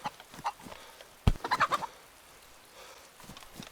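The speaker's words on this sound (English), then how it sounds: "I think I hear another chicken somewhere." A chicken or rooster in the video game DayZ gives a short burst of clucks, several quick bursts after a sharp thump, fairly close against quiet outdoor ambience.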